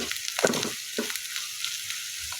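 Chicken pieces hit hot masala in a pan and set off a steady, close hissing sizzle, with a couple of brief clacks from stirring near the start.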